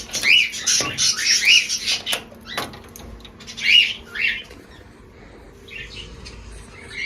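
Pet birds in a breeding cage give short, bright chirps in scattered bursts, fairly near but soft, with quiet gaps between calls.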